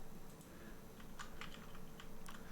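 Computer keyboard typing during a livestream of PT, a quick run of soft clicking keystrokes, faint and close, with no talking.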